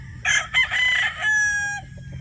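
A 3/4 Sweater, 1/4 Boston gamefowl broodstag crows once, close and loud, its drawn-out call rising and then holding steady before it breaks off, with quiet farmyard noise underneath.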